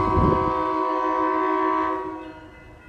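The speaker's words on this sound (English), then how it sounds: "now that the train is finally pulling into the station" A SMART commuter train pulls into Windsor station, sounding a loud, sustained horn over low rumbling that fades after about two seconds, leaving quieter rolling noise.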